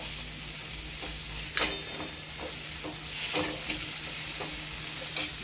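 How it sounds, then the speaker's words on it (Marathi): Coriander leaves are sautéed with peanuts and garlic in a pan, making a soft, steady sizzle. A few louder scrapes and clinks from stirring rise above it at intervals. "कोथिंबीरला पण छान असं परतून घ्यायचं."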